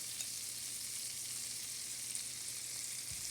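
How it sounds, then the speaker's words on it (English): Butter sizzles and crackles steadily in a hot pan, an even hiss with no talking. "I like to hear butter sizzle."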